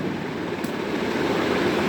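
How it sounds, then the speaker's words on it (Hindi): Ocean waves surging and crashing as a continuous, dense roar of surf that holds steady and fairly loud for the full two seconds, with no voices. "सागर की लहरें उछल पड़ी"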